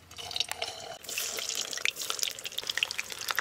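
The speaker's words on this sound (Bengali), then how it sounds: "তেল গরম হয়ে গেছে, মুইঠাগুলো ভেজে নেব" Chitol fish dumplings fry a few at a time in hot mustard oil in a kadai. A close, hissing sizzle swells after the first second, dotted with small crackling pops.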